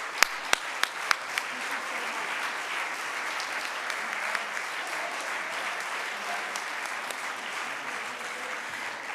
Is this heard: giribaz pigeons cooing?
no